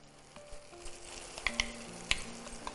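Ground meal maker (soy chunks) cooks with mashed tomatoes in a pan for a gravy, giving a soft, quiet sizzle broken by a few bright metallic clinks of a spoon against the pan.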